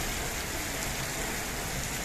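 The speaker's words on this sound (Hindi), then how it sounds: "बारिश आ गई" Steady, dense rain hisses evenly throughout, a continuous wash of drops with no voices or breaks.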